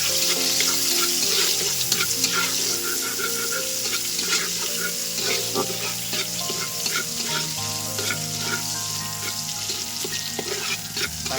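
Crushed garlic sizzling and frying steadily in hot oil while a Bengali catla fish curry is being cooked, with a continuous close crackle and occasional stirring clinks.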